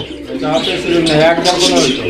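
A breeding pair of fancy pigeons coo close by in soft, throaty murmurs, mixed with a person talking over them in a short burst.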